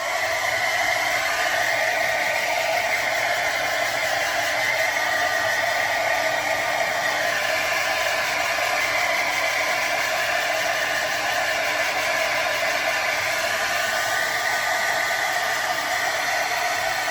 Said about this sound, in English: I'm going to put the hairdryer back on it in certain spots,